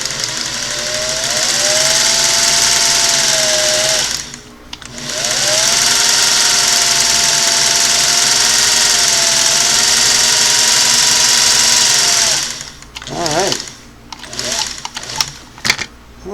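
A sewing machine runs smoothly with feed dogs moving, a steady loud mechanical whir with a brief pause near four seconds, then stopping into scattered clicks and handling noises at the end.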